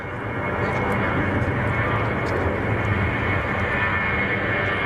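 An Airbus jet engine roars at Zurich Kloten airport, a loud, continuous broadband rumble and whine holding steady throughout, close and dominant.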